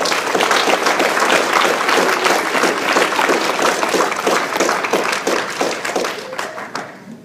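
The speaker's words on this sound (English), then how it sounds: "can we have a round of applause for our speakers," A forum audience at Concordia University Portland applauds its speakers, dense sustained clapping from many hands that fills the room for several seconds before thinning and fading near the end.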